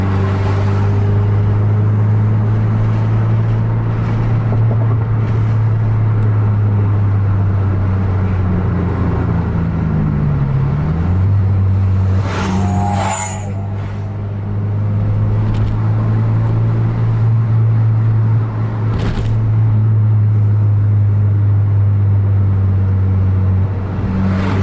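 A Scania-engined Pantura intercity bus runs hard at full throttle on the road, a loud, steady low engine drone with a brief dip and pitch shift midway as it shifts, then resumes under strain.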